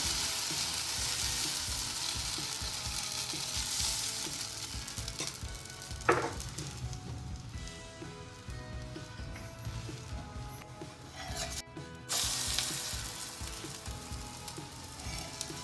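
Moong dal chilla batter sizzles in ghee on a pan, a steady bright hiss of frying with a brief scrape and a short gap, moderately quiet and without voices.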